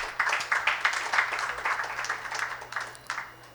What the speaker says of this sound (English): please welcome all the guests on the dais with a big round of applause